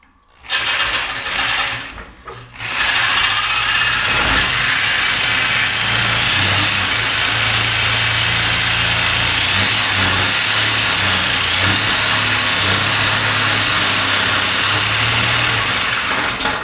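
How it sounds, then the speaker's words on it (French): A power tool cuts a metal skid plate for a Honda. A couple of short bursts come first, then a loud, sustained mechanical whine and grinding runs close by for over ten seconds. "Bon, j'ai coupé ma première plate."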